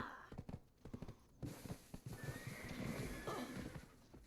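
A horse in the video game Black Desert Online gives a loud whinny followed by clip-clopping hooves, with a further neigh and snorting, close and clear with no talk.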